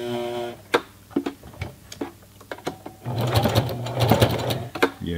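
A Singer heavy-duty sewing machine stitches a belt loop onto jeans. Separate needle clicks and short runs come first, then a steady, close mechanical whir from about the midpoint.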